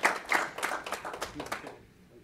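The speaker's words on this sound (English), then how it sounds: "Give them a nice round of applause." An audience at an annual meeting claps in a brief round of applause. Dense, fairly even hand claps come from a moderately distant crowd and taper off within about two seconds.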